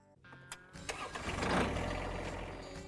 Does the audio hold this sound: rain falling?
no